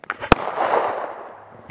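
A single sharp pistol shot from a Ruger rings out on an outdoor target range, preceded by a couple of faint pops and followed by a long fading echo.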